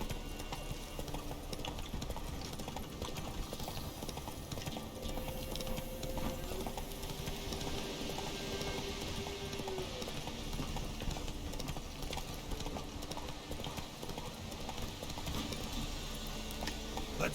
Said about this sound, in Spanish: Ya el capítulo base es solo de correr con el caballo hasta llegar a donde muera.